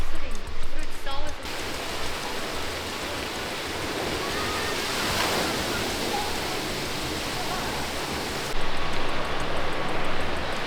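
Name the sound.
water gushing and splashing in a campsite washbasin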